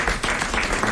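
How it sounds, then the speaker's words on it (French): A studio audience claps steadily for about a second, a dense, even burst of applause. "voilà, on applaudit sa pomme"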